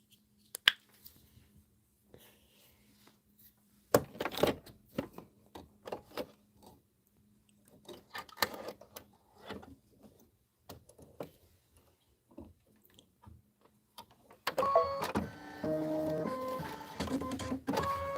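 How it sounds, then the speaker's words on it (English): A sewing machine stitches marshmallow placement lines in white thread on a Kimberbell Let It Snow pillow. Scattered clicks and handling noises come first, then a loud, steady mechanical whir near the end. "next step is we are going to stitch the marshmallow placement lines in white"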